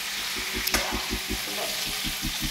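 Khichdi with potato, cauliflower, tomato and peas being stirred in a pan, giving a soft steady sizzle with a regular series of scraping stirring strokes close by.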